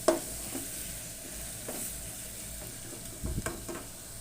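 Goat or mutton pieces frying in a pan with whole green chilies for an easy korma, giving a steady low sizzle, faint and close, with a few soft stirring scrapes and clatters near the end.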